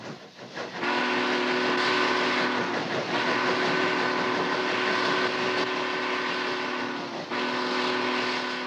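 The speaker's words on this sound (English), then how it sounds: "People love to hear the various whistle sounds by individual engineers" A steam train whistle blows one long, steady, piercing note that holds for several seconds before easing off.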